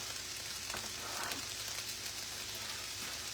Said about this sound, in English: these vegetables sizzling a little bit too on this hot plate